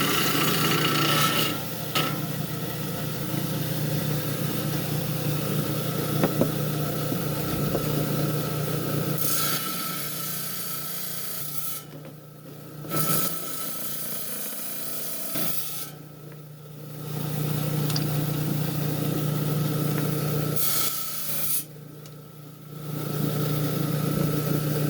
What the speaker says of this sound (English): step one is I got to trim this out of the slab here